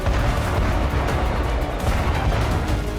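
Explosions from a Russian attack on an oil depot, captured as news footage: a continuous loud, rumbling roar of booms and blasts with deep low-end thunder and no talk.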